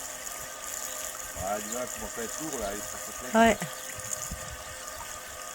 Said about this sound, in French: ça nous permet de faire le plein d'eau avant de repartir